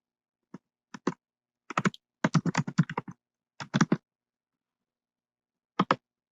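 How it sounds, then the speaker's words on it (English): Fingers tap out a password on a computer keyboard in short, irregular bursts of crisp, close keystrokes separated by pauses, with silence between the clusters. "Type in your name."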